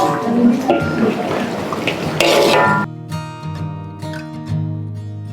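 Water poured into a cooking pot of lauk kicap in a home kitchen, a busy splashing pour with clinks of the pot for about three seconds, then quieter kitchen sounds under background music.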